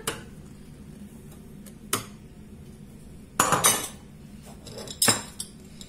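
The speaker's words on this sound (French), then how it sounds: "Et maintenant, je vais mettre ma semoule, ma farine" Semolina and flour go into a mixing bowl for semolina flatbread, with a few close clinks and knocks of a utensil against the bowl and soft pouring rustles between them.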